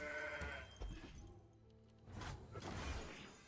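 A mountain goat card in the Legends of Runeterra video game lets out a short, wavering bleat over a layered game soundscape with a brief glassy shimmer. No one talks.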